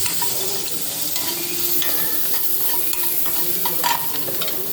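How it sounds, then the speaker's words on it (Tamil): Onions and crushed garlic cloves sizzle steadily in a hot pan for a ridge gourd gravy, with close, repeated scrapes and stirring strokes over the frying and no talking. "வெங்காயம் வதங்கினோடனே கொஞ்சம் ஒரு 4 பல்லு பூண்டை நசுக்கி போட்டுக்கணும்."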